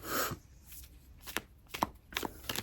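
A short run of crisp riffling bursts, cards shuffled several times close by, with brief pauses between them and no talking.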